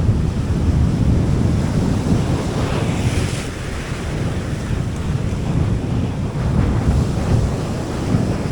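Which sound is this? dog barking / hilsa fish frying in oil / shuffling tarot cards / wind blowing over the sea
wind blowing over the sea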